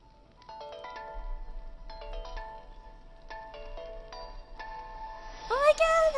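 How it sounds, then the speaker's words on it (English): Lily's bell in the Link's Awakening video game rings out as a repeating melodic chime in several bright, clear phrases, ending in a shimmering, rising flourish, with a voice speaking softly beneath. "Oh, it's a bell. See Lily's bell."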